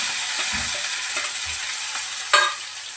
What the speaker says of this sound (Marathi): लसूण, कढीपत्ता, मिरची एकत्र टाकून देते सगळं